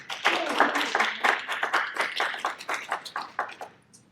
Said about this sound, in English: let's get a round of applause for all the panelists here